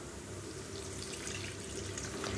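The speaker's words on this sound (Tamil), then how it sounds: "இப்போ புளித்தண்ணி சேர்த்திக்கலாம்." Tamarind water pours into a pan of sautéed masala for an okra tamarind curry, a soft, steady splashing wash of liquid heard up close and alone.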